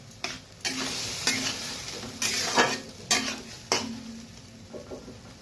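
Spiced ghoina fish curry stirred in a pan, a string of sharp spoon scrapes and clinks against the metal recurring roughly every half second to second, over a soft background sizzle.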